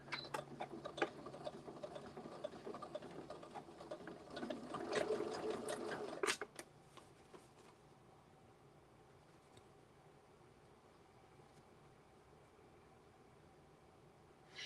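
A sewing machine stitches in a quick, fast-ticking run for about six seconds, then stops, leaving only faint room hiss and a low hum.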